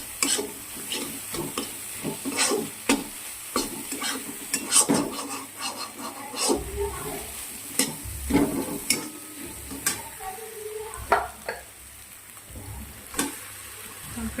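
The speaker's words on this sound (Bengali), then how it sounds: "দিচ্ছি ডিম দিয়ে ভালো করে মশলাটা কষা হয়ে গেলে" Eggs fry and sizzle in spiced masala for Bengali tarka, with soft frying hiss beneath repeated sharp scrapes and clinks of a spatula stirring against the pan.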